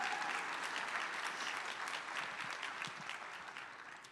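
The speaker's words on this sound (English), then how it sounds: "If we could give her and the Black Honors College a big round of applause" An audience at a Native American college opening ceremony claps steadily in a dense, even round of applause that slowly tapers toward the end, faint overall.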